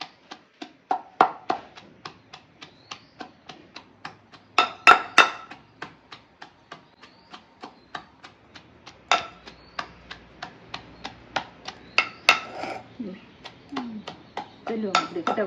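Rhythmic pounding of ingredients for vada at a roadside food stall, with steady repeated thuds and sharp knocks in a quick beat, close and moderately loud, and a few voices talking now and then.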